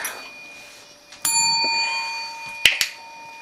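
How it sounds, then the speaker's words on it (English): A dog rings a small bell with bright, ringing chimes: one clear strike, then two quick strikes close together a little later, each leaving a sustained metallic ring in a quiet room. "Maddie, ring the bell."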